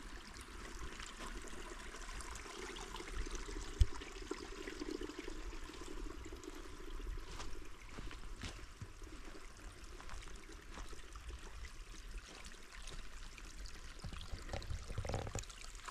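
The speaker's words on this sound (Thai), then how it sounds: "เป็นลำธารธรรมชาตินะคะ" A small natural stream in a mushroom forest at evening flows with a steady, soft trickling wash, continuous and fairly quiet throughout, with one brief click near the start.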